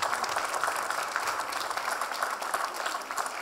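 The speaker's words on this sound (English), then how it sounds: "Give them a very big hand, please." An audience at a charity award night applauds the artists, dense continuous clapping from a crowd filling the room at steady loudness with no voices over it.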